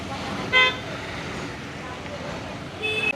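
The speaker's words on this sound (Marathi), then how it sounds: "कशाला हॉर्न वाजवतात" Two short bus horn toots, one early and one near the end, over steady road traffic noise at a village market; people talk in the background.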